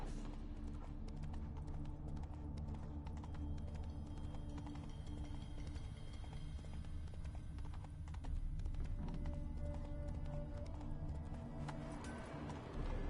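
Horse hooves clip-clopping in The Witcher 3, a steady, fairly close rhythm of hoof falls running the whole stretch over a low game background hum, no talk.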